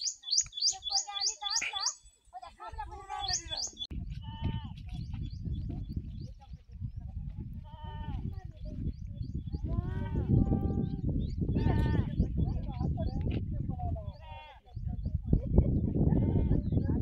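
Goats bleat repeatedly on a farm, several close, wavering calls rising over steady outdoor background noise, with birds chirping faintly.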